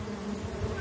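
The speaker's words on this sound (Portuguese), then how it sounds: "Eu não sei se são outras abelhas que estão querendo invadir a casa dessas." Uruçu stingless bees fighting at the hive make a dense, steady buzzing that swells slightly near the end. The hum is close and continuous, with no voices.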